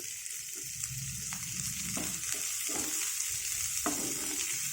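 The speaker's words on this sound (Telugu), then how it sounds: "కొంచెం వేగిన తర్వాత ఇదిగోండి ఇలా ఉడికినాయి" Onions frying for gongura chutney make a bright, continuous sizzle close by, with occasional light stirring taps rising above the steady hiss.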